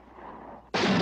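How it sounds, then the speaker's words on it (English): A single loud rifle shot from a repeating rifle cracks out in a 1966 western film, a sudden sharp blast after a stretch of quiet room tone. "They have a new rifle now."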